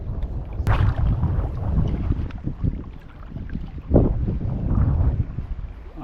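A boat engine runs steadily at sea during a harvest outing, a low continuous drone mixed with wind buffeting the microphone and water noise, loud and close, with no talk.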